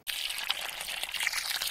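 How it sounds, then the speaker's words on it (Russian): Water pours steadily into a pitcher of homemade lemonade, a continuous close splashing rush that starts abruptly and runs without pause, with no voices. "Залью наш лимонад водой."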